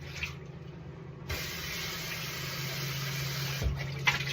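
Liquid pours steadily from a coffee pot into a kitchen sink, a continuous close splashing that runs for several seconds with a faint low hum beneath.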